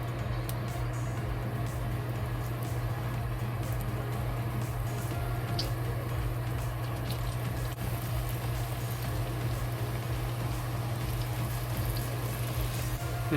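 Eggplant frying in hot oil in a wok, a steady dense sizzle and crackle with a constant low hum underneath, unbroken and fairly close for the whole stretch.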